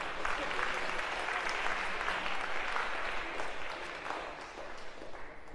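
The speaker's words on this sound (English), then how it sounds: "round of applause, sure." Lecture-hall audience at a Harvard CS50 computer science class applauds steadily as a student volunteer comes up to the stage, a dense, continuous clatter of many hands with faint murmurs underneath.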